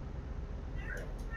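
A pet cat gives a short, clear meow near the end, heard over steady background noise during a live stream of Euro Truck Simulator 2.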